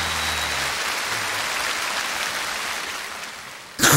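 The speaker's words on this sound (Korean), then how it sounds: "박수 주세요. 박수 박수." Audience clapping at a KBS National Singing Contest finals, a steady sustained wash of applause that fades slightly before a louder burst at the end.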